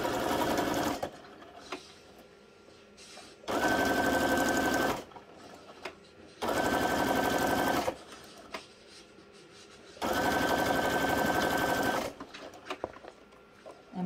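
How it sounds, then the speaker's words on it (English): A sewing machine runs in three loud bursts of about one and a half seconds each, stitching around journal cards made from punch negatives, with quiet handling sounds between the runs. "we're gonna sew right around each one"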